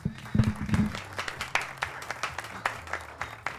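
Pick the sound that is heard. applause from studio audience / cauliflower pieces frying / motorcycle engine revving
applause from studio audience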